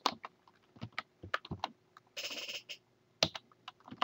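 A website address is typed on a computer keyboard in bursts of close, crisp key clicks, including a short rapid run of keystrokes partway through, with quiet pauses between.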